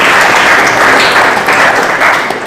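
Church congregation clapping to glorify the Lord, a loud, dense burst of applause from many hands, sustained and even, with no talk over it.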